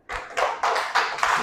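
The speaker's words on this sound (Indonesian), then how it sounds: "tepuk tangan" A classroom of students claps for a presenting group, a short burst of about five rhythmic, evenly spaced group claps, close and fairly loud.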